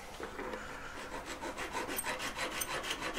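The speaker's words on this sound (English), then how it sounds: "Make sure you're filing it nice and flat, not too much of any angles going on." A needle file rasps steadily against metal in quick, even back-and-forth strokes, close up and fairly quiet, while a length-adjustable necklace is being made.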